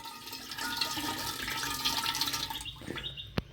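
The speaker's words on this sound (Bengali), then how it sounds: "এই যে হলুদ জলটা এইটা এখন আমি আগে ফেলে দেবো" Turmeric water being poured away from a bowl in a home kitchen, a continuous splashing pour that runs steadily for a few seconds before tapering off, ending with a brief clink.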